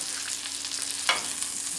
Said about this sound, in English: that's it for the fryer. Frying is done.